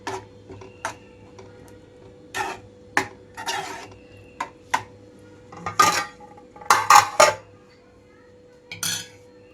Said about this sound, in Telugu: 2 నిమిషాల పాటు అయితే మూత పెడుతున్నాను.